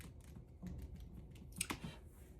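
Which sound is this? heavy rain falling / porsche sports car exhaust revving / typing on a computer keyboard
typing on a computer keyboard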